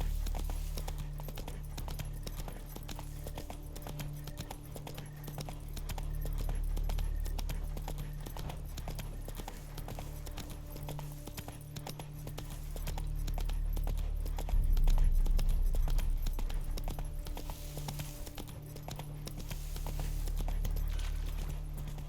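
Horse hooves galloping in the video game Witcher 3, a rapid, steady clip-clop rhythm with light tack jingling that carries on throughout, loud and close over a low ambient hum.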